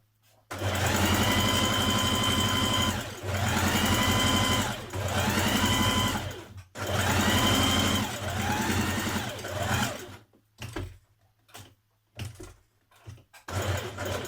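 Domestic sewing machine stitching the back neck edge of a Simplicity 1064 tunic, back tacking at the seam start: loud, close motor whir in sustained runs with short pauses and fabric handling near the end, no talk.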